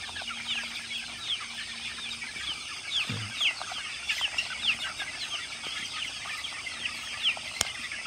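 Chicks and chickens in a coop clucking and peeping with scattered wing flaps, soft to moderate chirps repeating throughout against steady background noise, no talking.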